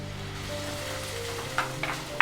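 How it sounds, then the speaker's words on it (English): Onion and green chilies sautéing in hot coconut oil in a pot, a steady close sizzle with a few sharper spatters and stirring clinks near the end, no voices. "Heat some coconut oil in a pot and saute onion and green chilies."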